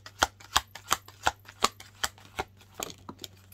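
Oracle cards being shuffled in the hands, a run of about ten crisp riffling slaps in a steady rhythm, close and fairly quiet, with a faint steady hum underneath.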